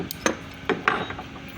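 Metal spanners clinking and scraping on a power tiller gearbox while the clutch assembly is opened, a few sharp close taps and rattles with quiet gaps between.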